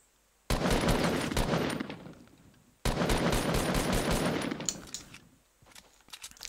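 Rapid bursts of gunfire in the Fortnite battle royale during a zombies event, two long loud volleys of fast repeated shots separated by a brief gap, then scattered fainter shots.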